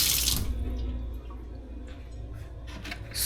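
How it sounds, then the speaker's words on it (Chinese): A kitchen water tap runs into a sink, a steady close rush of water with a brief louder splash at the start and a few small drips and clatters. "水龙头。"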